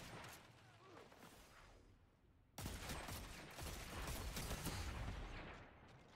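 Rifle fire in the Dead Man's Tale video game comes as dense, rapid bursts, fairly faint at first. It then jumps louder and keeps up as a sustained, crackling volley.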